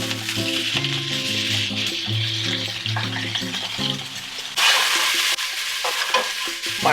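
Thin slices of marinated pork sizzle and fry in a hot pan, a steady loud crackling hiss that swells sharply partway through, with no talking.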